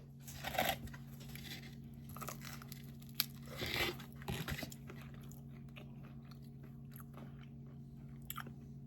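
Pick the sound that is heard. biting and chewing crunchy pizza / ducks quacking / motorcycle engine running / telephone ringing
biting and chewing crunchy pizza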